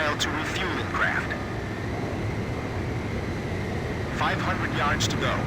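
Jet aircraft engine roar in the Ace Combat 5 video game, a steady loud drone as a fighter closes on a refueling craft, with radio chatter over it.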